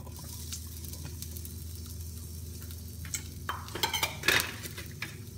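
Onions dropped into hot oil in a pan for crabs in coconut milk, a low steady sizzle with utensil clinks and scrapes building near the end, close up, without talk.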